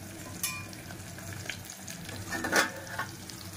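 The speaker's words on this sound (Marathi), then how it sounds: "त्याची वांगे फ्राय झाले।" Eggplant fries in a pan with a garlic tempering for a stuffed-eggplant dish with moong, making a faint, continuous sizzle with a few brief crackles and pops.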